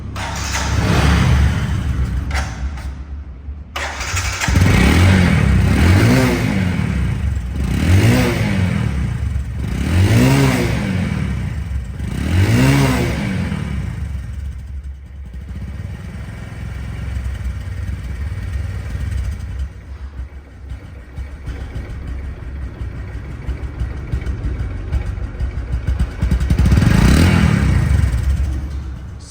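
A second-hand Bajaj Discover 125cc motorcycle idles close by and revs repeatedly in a run of quick throttle blips. It then settles into a steady idle and gives one more rev near the end.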